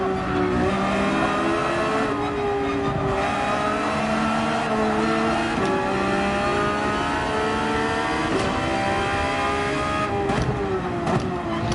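Race car lapping Yas Marina in Gran Turismo 7, engine droning steadily with rising pitch through gears, brief shift dips and tire noise, loud and continuous without speech.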